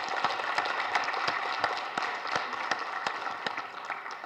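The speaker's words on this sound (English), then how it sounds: "A round of applause for my volunteers." Audience applause for volunteers at a tech conference ballroom session, a steady patter of many hands clapping with sharper individual claps standing out, moderately distant.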